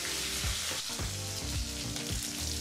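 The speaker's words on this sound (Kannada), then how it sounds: "ಈಗ ಲೋ ಫ್ಲೇಮ್ನಲ್ಲೇ ಈ ಎಲ್ಲ ಪದಾರ್ಥನೂ 1 ನಿಮಿಷ ಎಣ್ಣೆಯಲ್ಲಿ ಫ್ರೈ ಮಾಡ್ಕೋಬೇಕಾಗತ್ತೆ." Curry leaves and green chillies fry in oil over a low flame for a citron rice dish, giving a dense, steady sizzle with soft stirring scrapes throughout.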